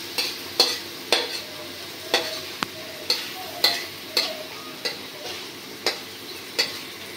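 A vegetable bhaji sizzles as it fries in a pan in a village kitchen, with a steady hiss broken by a regular series of sharp scraping strokes from the stirring spoon, about one per second, close and fairly loud with no talk.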